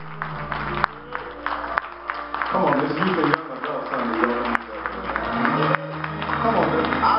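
Church congregation clapping hands during a youth service, rhythmic claps running beneath an enthusiastic voice leading the crowd, with music and crowd noise filling the room throughout.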